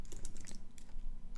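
Quick, irregular taps of typing on a computer keyboard, close and fairly soft, continuing through a brief burst with no talking.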